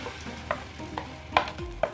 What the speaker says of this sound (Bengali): কাঁচা আমের পাল্পটাকে আমি দিয়ে দিচ্ছি ফ্রাই প্যানটার মধ্যে